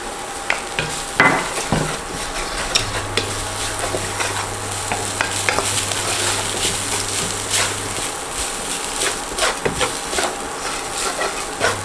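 A cup of rice is stirred into a pan of pepper rice, with repeated spatula scrapes and clacks over a soft ongoing sizzle, close and busy, along with a low steady hum partway through.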